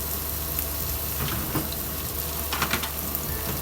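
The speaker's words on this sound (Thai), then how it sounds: "ไฟเริ่มร้อนแล้วนะครับหลังจากนั้นก็ กระเทียมลงไปเจียวนะครับ" Garlic frying in hot oil on a Thai home stove for crispy garlic with pork belly, a steady dense sizzle with faint stirring and clinks throughout, no voices.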